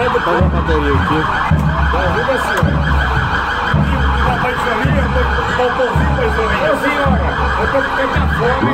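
A loud wailing fire truck siren cycles up and down repeatedly, close by, with a low engine rumble beneath it and crowd noise around, at an Independence Day civic parade in Arapiraca, Brazil.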